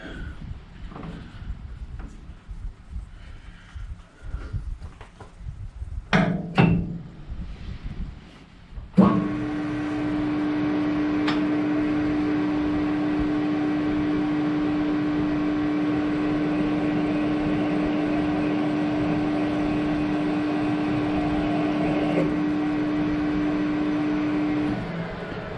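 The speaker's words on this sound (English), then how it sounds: "Just want to get a good chamfer on the hole now before I start the threading." A hole being chamfered before threading, during work on a shortened ER40 collet chuck: some handling knocks and clatter, then a machine starts and runs with a steady, even whine and hum for about fifteen seconds before easing off.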